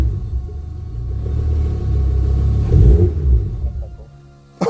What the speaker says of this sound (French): Et elle démarre ta caisse